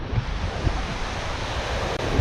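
Ocean waves at San Fabian Beach in Pangasinan, Philippines, wash in a steady, loud broadband rush mixed with wind buffeting the microphone, with no voices.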